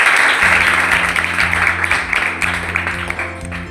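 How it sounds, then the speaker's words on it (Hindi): Schoolchildren clap together in a classroom, a loud burst of clapping that gradually thins out, with a low rhythmic hum or music running underneath. "एक बार अपने तालियां बजाएं।"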